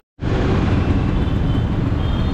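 Dense, steady roar of heavy road traffic around a scooter on an Indian highway, a continuous broadband rumble of cars, buses and trucks that starts abruptly and holds loud and constant throughout, with no voices.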